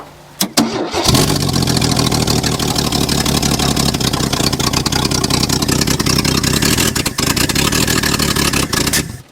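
A 1974 AMC Javelin engine, pulled from the trees after more than 30 years, cranks briefly and catches, then runs loud and steady at a rough idle for several seconds with no talk over it.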